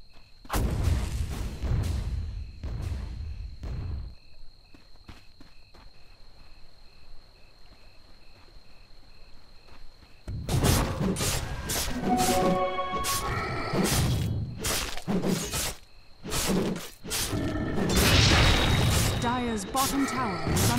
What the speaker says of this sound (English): Dire's bottom tower is under attack.